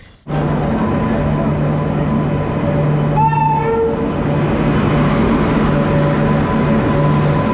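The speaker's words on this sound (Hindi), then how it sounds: "ट्रेन हमारी आ चुकी है दरभंगा जंक्शन के प्लेटफॉर्म नंबर 1 पे" Swatantrata Senani Express arriving at Darbhanga Junction platform, a loud continuous rail rumble with a short horn blast in the middle, heard close with no talking.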